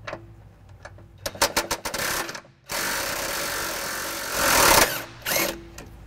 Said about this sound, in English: I'll be using an impact and an 18 millimeter socket.